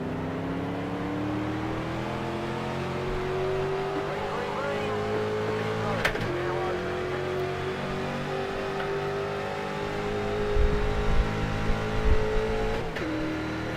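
Simulated Street Stock race cars at Charlotte Motor Speedway in iRacing roar off the green-flag start, a steady engine drone climbing slowly in pitch for most of the run with a couple of brief sharp blips and a louder low rumble near the end.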